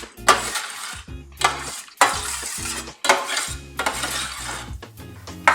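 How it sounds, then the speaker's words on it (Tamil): Tempered mustard seeds and curry leaves are stirred into curd in a bowl, producing loud, rhythmic scraping and clinking of a spoon against the dish in bursts of roughly one per second, close up and without voices. "தாளித்து வச்ச கடுகு, கருவேப்பிலையை போட்டுக்கணும். போட்டு இதை நல்லா மிக்ஸ் பண்ணிக்கணும்."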